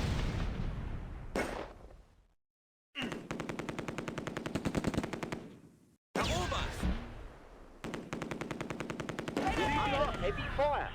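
Machine gun fire in the World War II strategy game Close Combat A Bridge Too Far, including an MG42 and a Vickers. Loud rapid bursts come in several long volleys with short silent gaps, mixed with sharp impacts and crackling debris.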